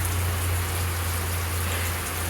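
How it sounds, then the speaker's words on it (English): Steady rain falls outdoors, making a constant hiss of drops with a low hum beneath it. "Do you love the rain?"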